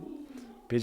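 A pigeon coos softly, with a low, steady murmur that swells into a louder, fuller call near the end.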